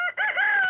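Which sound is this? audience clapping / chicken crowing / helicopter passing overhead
chicken crowing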